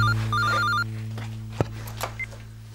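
A telephone rings with a repeating electronic bell trill, fairly close and clear, then stops, leaving a low hum and a few faint clicks and bumps afterward.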